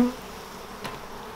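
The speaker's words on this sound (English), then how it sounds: "lots of bees there, side to side" Honeybees buzzing over hive frames during a swarm-control inspection, a soft continuous drone from many bees close by with one louder buzz passing briefly.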